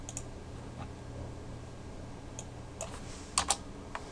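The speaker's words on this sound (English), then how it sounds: "we'll just have to type it in manually" Sparse clicks of typing on a computer keyboard in a quiet room, a few keystrokes spread out with a small cluster near the end.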